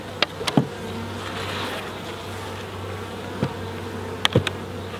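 Honey bees buzzing around an opened beehive as a honey super is added, a continuous close drone with individual bees zipping past the microphone now and then.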